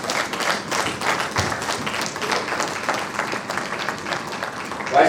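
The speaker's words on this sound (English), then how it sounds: "Please, a round of applause for her." Audience applause at an entomology society awards presentation, steady dense clapping that fills the room for several seconds without a break.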